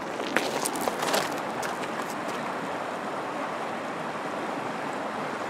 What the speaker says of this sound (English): See how swift the current is?